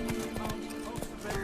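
Horse hooves clip-clopping at a quick gallop in the video game The Witcher 3, with a brief whinny and game music underneath, steady and fairly close throughout.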